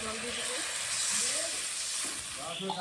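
Chillies frying in a pan hiss loudly and steadily as water is added, the sizzle staying close and continuous over the short stretch, with a faint voice underneath.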